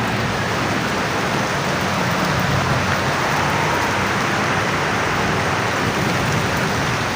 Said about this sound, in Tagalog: Grabe guys, ulan na naman.